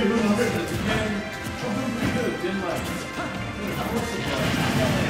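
A forward smash attack landing in a fighting video game match against Samus, with loud crashing hits and a dense, continuous wash of game effects under steady commentary.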